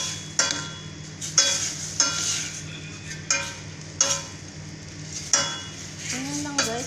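Squid adobo with black pepper being stirred in a pan: a series of sharp spoon-on-metal scrapes and clinks at a steady rhythm, up close over a soft sizzle.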